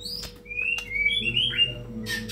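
A white-rumped shama sings clear, whistled phrases close by, a run of bright rising and falling notes with a few chirps, over a faint background hum.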